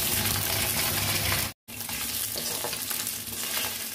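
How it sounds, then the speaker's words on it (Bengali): A fish head fries in hot oil in a wok. A loud, close, continuous sizzle cuts out for a split second, then resumes slightly softer. "আমি মাছের মুড়োটা দিয়ে দেবো কড়াইয়ের মধ্যে"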